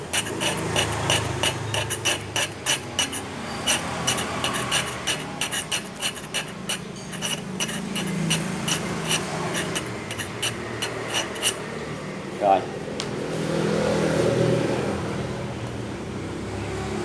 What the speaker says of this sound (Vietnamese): các bạn nghe tiếng sẹt sẹt của kim loại nó ăn cái lợi xúc bắp với cái miệng xúc bắp nè